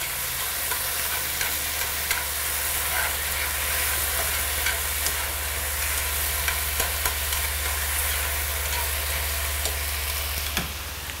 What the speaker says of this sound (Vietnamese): sau khi bỏ cà chua vô đảo một vài vòng và mình bỏ giá vô là mình xào được rồi.